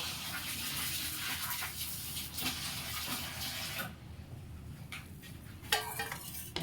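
Food being rinsed under running water in a bowl, a continuous splashing flow that shifts to softer sloshing and handling partway through, with no talking.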